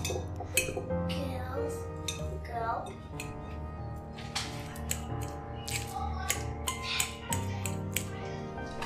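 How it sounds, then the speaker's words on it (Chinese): Three ripe bananas mashed with a fork in a bowl, a run of clinks and soft squishing scrapes of metal on ceramic, irregular and close, with someone talking over it. "用叉子捣碎"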